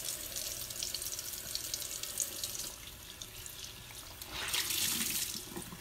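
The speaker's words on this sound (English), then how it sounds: "Then I am going to rinse with water." Tap water runs steadily into a bathroom sink while a face is rinsed, a continuous close splashing hiss that swells louder toward the end, with no voices.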